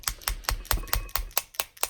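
A paintbrush is smacked repeatedly against a pair of scissors to spritz paint speckles, giving about nine sharp, evenly spaced ticking taps in quick succession, close and crisp.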